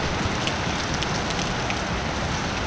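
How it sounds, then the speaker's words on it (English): Steady rain falling on an Australian beach during a fishing outing, a loud dense hiss of drops with no break. "I don't fancy walking out in this rain too often if I can avoid it."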